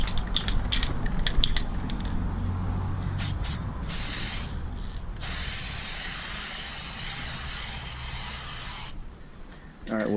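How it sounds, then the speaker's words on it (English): An aerosol can sprays light coats of clear coat onto a sanded car headlight, starting with a run of short hissing bursts and then one long, steady spray before it cuts off. The sound is close and unaccompanied by speech. "what we want to do is just spray light coats."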